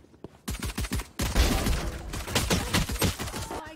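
Gunfire in Valorant video game: a rapid string of close, loud rifle shots in quick bursts, followed by sustained sprayed fire with sharp repeated cracks.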